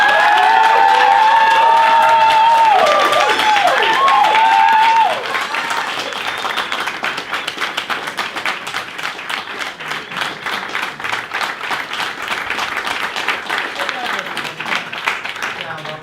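Wedding guests clap and cheer for a just-married couple: loud whoops and shouted voices ring out over dense clapping at first, then the applause carries on slightly softer and steady to the end.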